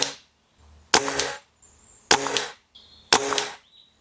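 Three sharp shots from an Air Arms TX200 air rifle aimed at a splatter target, each a crisp crack with a short ringing tail, spaced about a second apart, with faint metallic pings after the later ones.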